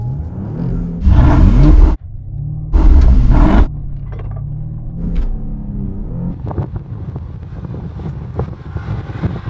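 Porsche Panamera 4 and Mercedes S500 Coupe launching in a drag race, with two loud bursts of engine roar and wind rumble close to the microphone, then a steadier lower rumble as the cars run on.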